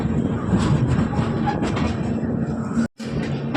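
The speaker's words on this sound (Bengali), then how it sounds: "ফাইনালি ব্যান্ডেল থেকে বেরিয়ে গেল আমাদের ট্রেন" A local train pulling out of Bandel station, heard from inside as a steady loud rumble with faint rhythmic clatter, broken by a momentary dropout near the end.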